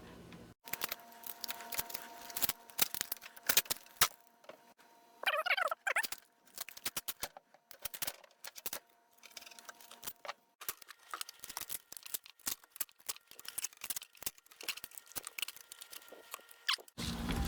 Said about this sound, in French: on fait un petit paquet avec et on vient mettre du duct tape